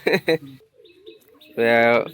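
Pigeons in a loft, including a wild pigeon among kept birds: brief bird calls and coos, with a sustained tonal call near the end, and people talking nearby.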